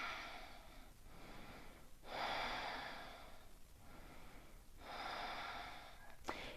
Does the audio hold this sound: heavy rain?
no